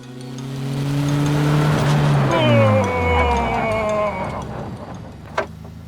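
Ariel Nomad 2 car engine revving hard, a loud rising drone that climbs in pitch through the gears, then eases off and drops to a quieter idle near the end.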